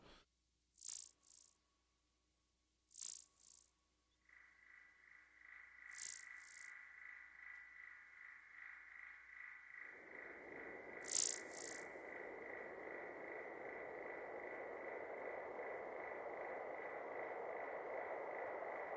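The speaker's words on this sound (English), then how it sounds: "Oh, there was multiple insect sounds." Sharp synthetic chirps from a Eurorack modular synthesizer repeat in pairs, then a steady high insect-like tone sets in, later joined by a dense rising hiss of buzzing, all without speech.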